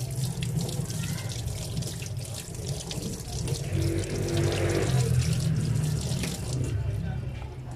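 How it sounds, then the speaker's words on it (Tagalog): Labahita fish being rinsed under a running kitchen tap before cooking in coconut milk with vegetables, a continuous close water splash with shifting patter as the fish is turned beneath the stream. "Hugasan muna natin to, baka maalat."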